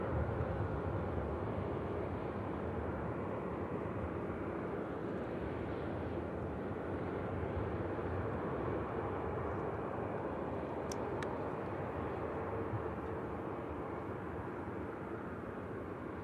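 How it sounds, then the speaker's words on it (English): Distant jet aircraft roll and taxi on the ground at Manchester Airport, a steady low engine rumble and broad hum that stays level throughout, heard from a nearby garden without any talking. "One or two aircraft on the move on the ground"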